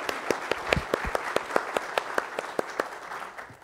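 A church congregation at a Sunday service applauds, steady rhythmic clapping with distinct individual hand claps carrying across the room and fading toward the end.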